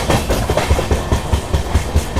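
Vijayawada–Lingampalli Intercity SF Express running near Krishna Canal Junction, loud rhythmic clickety-clack of wheels over rail joints, regular beats close by with the carriage roaring beneath.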